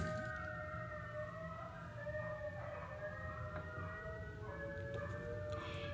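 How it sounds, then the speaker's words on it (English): Faint sirens wail in the distance, several overlapping tones rising and falling over a low background rumble. "Sirens."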